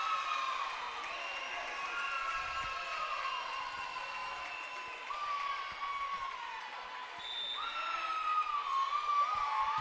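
A gym crowd at a women's volleyball match cheering and shouting at moderate distance, with high excited voices rising and swelling throughout as the home side grows louder.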